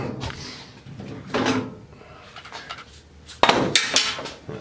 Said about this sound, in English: I gotta use a hammer and a screwdriver. Sometimes they just pop right there.